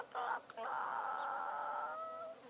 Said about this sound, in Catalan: sona com si fos una gallina